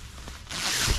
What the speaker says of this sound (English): you can zipper this up and then draw the drawstring, and you've got a foot box